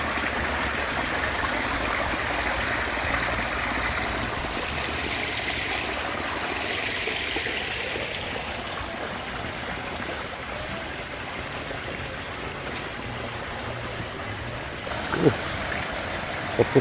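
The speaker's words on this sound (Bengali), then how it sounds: "দেখুন মানে ঝর্নার মতো পানি পড়ছে" Rainwater pouring off a slope like a small waterfall after a night of heavy rain in a flooded rural area, a steady continuous rush of water close by with a couple of faint knocks near the end.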